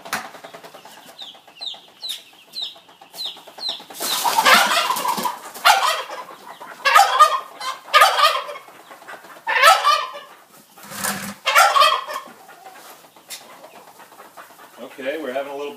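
Chickens pecking at kitchen scraps such as scrambled eggs, beans, apples and eggshells, giving repeated close clucks and squawks in short bursts between quieter stretches.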